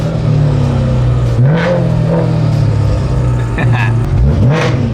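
A BMW M3 engine revs up and settles repeatedly in a loud, close, throaty drone with rising and falling pitch sweeps, while people talk over it.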